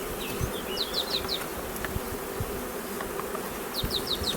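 Honey bees buzzing around a beehive, a dense steady hum broken by a few clear high chirping calls; no one speaks.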